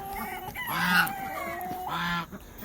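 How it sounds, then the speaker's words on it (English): Chickens roaming a freshly opened plot of land on a homestead, with two drawn-out, nasal clucking calls close by, set against a steady outdoor background hum. "the chickens are loving this new plot of land"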